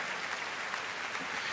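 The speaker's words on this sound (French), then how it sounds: "c'est l'arrivée du chef avec son premier violon que tout le monde applaudit dans la salle" A concert hall audience applauds as the conductor walks in with the first violinist before a large choir performance, a dense, even wash of many clapping hands heard at a distance, continuous and fairly soft.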